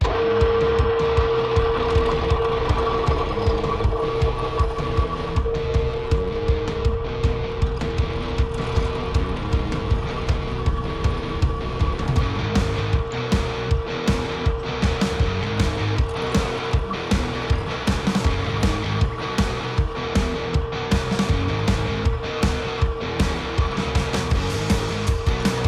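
A metal go-kart part for a vintage DAP kart restoration is being machined: a loud, continuous mechanical drone with a steady tone, and fast regular ticks running through it, with no one talking.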